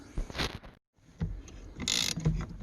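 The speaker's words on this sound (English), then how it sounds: "I'm going to take these bolts out" Ratcheting wrench work on bolts holding a bracket to the steering column of a 1989 Ford E150, with close metallic clicks, short scraping bursts and a brief pause midway, no talk over it.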